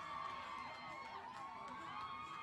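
A crowd at a bass fishing college championship weigh-in cheers and screams steadily, a dense wash of whoops and shouts heard from a distance, with no pauses across the clip.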